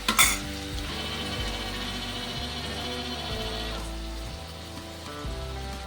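Onions drop into hot oil in a pan for pav bhaji masala and sizzle steadily, a close, even frying hiss with a sharp splash at the start and no talking.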